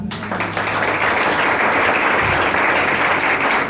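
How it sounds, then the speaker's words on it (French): A church congregation bursts into loud, sustained applause, a dense wash of clapping that starts abruptly and holds steady throughout. "Est-ce que tu peux l'acclamer?"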